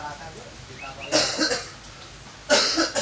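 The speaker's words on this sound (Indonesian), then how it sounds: "Batuk itu." Two bursts of coughing from a person being treated with a traditional jinitri-seed massage for aches and a cough, each burst a short loud cluster of harsh coughs, near and separated by a quiet pause.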